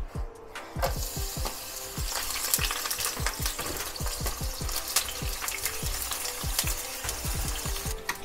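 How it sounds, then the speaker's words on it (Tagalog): Onions fry in a pan for Filipino pork steak, a loud, close crackle with many sharp pops spattering steadily over a continuous sizzle. "Iprito ko na yung onions."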